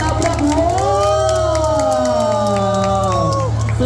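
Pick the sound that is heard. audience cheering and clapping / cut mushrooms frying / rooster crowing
audience cheering and clapping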